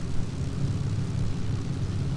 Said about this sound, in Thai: ตอนนี้มีเครื่องบินคุ้มกันด้วย